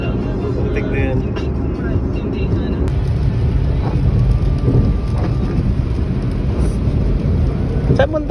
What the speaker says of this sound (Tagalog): Umuulan. Umuulan, ang dilim.